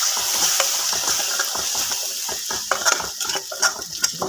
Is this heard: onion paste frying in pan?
yes